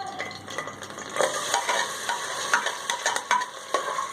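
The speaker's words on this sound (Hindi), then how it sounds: "तो हम इसमें ऑयल गर्म डालते हैं। ऑयल गर्म हो जाएगा तो हम प्याज डाल देंगे। प्याज को हम फ्राई करेंगे।" Onions frying in hot oil in a pan, a steady close sizzle with crackling pops and the scrape of a stirring spoon running through it, no voices.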